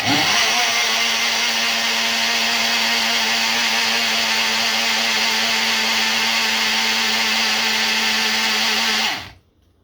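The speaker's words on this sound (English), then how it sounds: "Put it on the blender. And get this all mixed up." A blender whirs loudly and steadily at full speed for several seconds, then cuts off abruptly and winds down.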